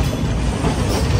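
A train runs past at Jalgaon Junction, a steady rumble of wheels on rails close by that fills the whole brief moment with no gaps.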